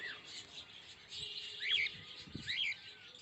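Cockatiels in a bird market at Kataban in Dhaka give shrill, rising chirps now and then over a low murmur of market background noise.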